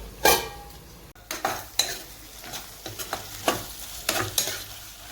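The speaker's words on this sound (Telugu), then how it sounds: "ఇక ఉల్లిపాయలు ఇలాగ వేగాలండి" Onions frying in a pan for chicken curry, a moderate sizzle punctuated by repeated scraping stirs and clinks of a spatula against the pan at an irregular rhythm.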